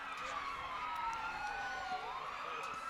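A police car siren wails steadily during a Christmas parade in Kingston, a rising and falling tone heard at moderate distance over faint crowd ambience.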